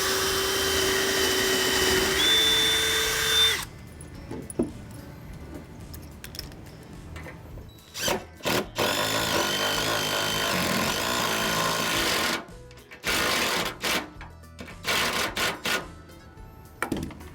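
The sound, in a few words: drilling and driving lag bolts with drill and impact wrench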